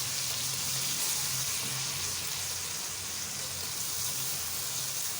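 Tomatoes frying in ghee in a pan give a steady, even sizzle that runs throughout at moderate loudness, with no talking.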